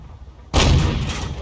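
A single heavy tank cannon shot in a tank video game, a loud booming blast that erupts suddenly and rumbles on through the rest of the moment, with no talk.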